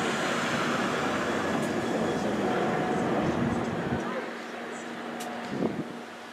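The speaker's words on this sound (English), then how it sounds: "approaching now, we've got a Bakerloo Line train to Elephant Castle with 3246" A London Underground Bakerloo Line train to Elephant & Castle approaching South Kenton station, a steady rumbling rush with wind buffeting the microphone, easing off toward the end.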